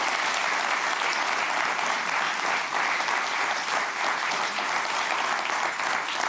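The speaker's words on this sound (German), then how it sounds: "Applaus bitte. Ganz toll. Super." A studio audience on a TV cooking-competition show applauds. The clapping is dense and continuous, with an even level throughout and no break.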